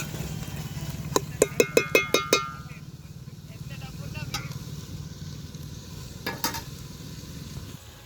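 A pan of frying food with salt and chili is stirred outdoors near a farm field. A quick run of sharp metallic clinks from the spatula rings out over a continuous low sizzle, with a few more clinks later.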